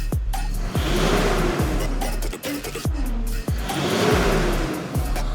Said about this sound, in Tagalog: ito nakapalit na ng full exhaust using Spitfire muffler. Ito po yung sound check.